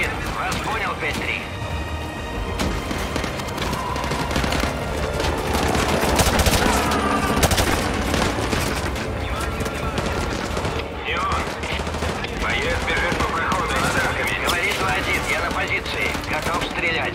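Gunfire in Call of Duty: Modern Warfare 2 Remastered, dense bursts of automatic weapons and heavy rumbling blasts filling the scene continuously, mixed with radio-style voices talking over the combat.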